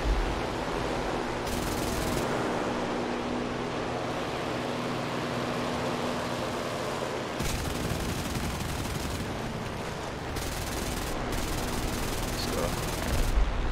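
Automatic rear-firing aircraft cannon fire in the War Thunder flight combat game: dense, sustained bursts of rapid gunfire layered over a constant engine roar, with several sharper firing stretches standing out against the steady noise.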